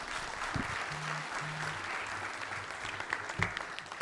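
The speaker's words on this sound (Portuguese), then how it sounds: "Uma salva de palmas." Audience applause at the close of an international business panel event, a moderate, steady patter of clapping that runs for several seconds with a hum underneath.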